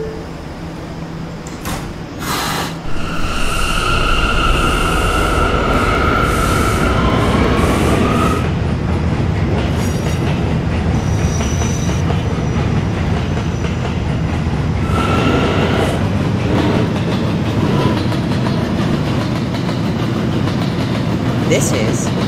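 An R179 B subway train in a Roblox game runs steadily with a continuous rumble and rail clatter, with door and tone sounds near the start and a recorded announcement voice over parts of it.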